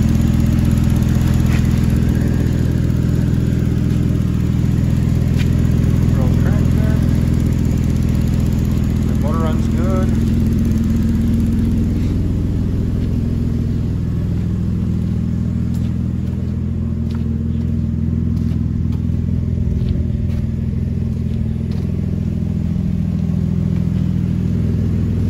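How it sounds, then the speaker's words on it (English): A 2008 Saturn Aura XR with a 3.6 engine, 189,859 miles and a bad transmission, runs steadily at a loud, close idle with mild swells in revs. Speech can be made out faintly over the engine. "Motor runs out good."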